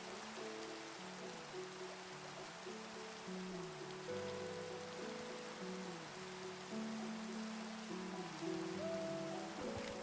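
Steady rain falls in the Minecraft video game, a soft continuous hiss of patter under faint tonal background music, with no talking.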